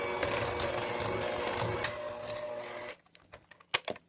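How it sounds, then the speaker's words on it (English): An electric mixer beats pâte sucrée tart dough with a loud, steady whirring drone for about three seconds, then cuts off, followed by a few light clatters and knocks. "then you can start the mixer."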